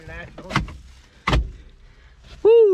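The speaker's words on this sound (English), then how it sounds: "Door opens great." The door of a 1976 Chevy Luv pickup clunks twice as it is unlatched and swung open, close and solid, followed by a man's sudden exclamation.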